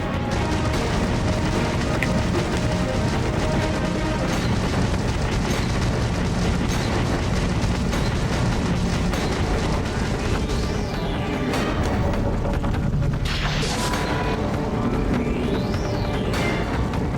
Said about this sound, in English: Cool guys don't look at explosions and whatnot.